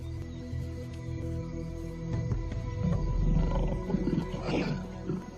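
A lion roars near a pack of wild dogs in the wild, a deep, rumbling call building over low background noise, moderately close and fairly loud.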